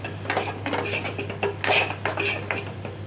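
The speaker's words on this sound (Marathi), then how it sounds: "चला मंडळी, आता रवा आपण भाजून घेऊया जरासा कोरडा" Semolina being dry-roasted in a pan, stirred with a metal spoon that scrapes and clinks against the pan in a steady, irregular rhythm, close and moderately loud, with a low hum underneath.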